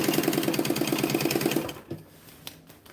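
A sewing machine stitching fabric runs in a fast, even mechanical chatter for under two seconds, then stops, leaving a few faint clicks and knocks nearby.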